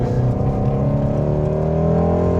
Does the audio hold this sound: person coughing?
no